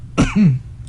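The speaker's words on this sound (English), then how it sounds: "Sorry about the cough." A single short, harsh cough close to the microphone, a sharp burst followed by a brief throaty rasp, then quiet.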